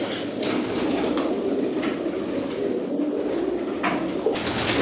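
Pigeons kept in a fancier's loft coo steadily amid a dense, continuous bed of loft noise, with no talk heard.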